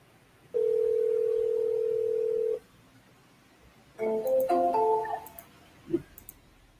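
An outgoing phone call sounds a single long steady ringback tone lasting about two seconds, followed by a pause and then a brief burst of mixed electronic telephone tones and a click.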